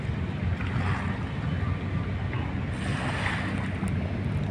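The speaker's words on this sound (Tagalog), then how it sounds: "Ayan yung bangka parating mga kaibigan mga bayan." On Manila Bay, an approaching boat sounds as a low, steady rumble buried in heavy wind buffeting the microphone and the wash of water, a continuous noisy bed with no talking.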